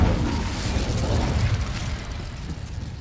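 Incendio fire spell cast in Hogwarts Legacy, a rolling burst of whooshing flame and crackle that swells loud at once, holds, then gradually fades.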